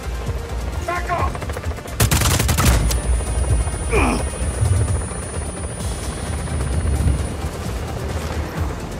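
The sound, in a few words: helicopter in video game Just Cause 4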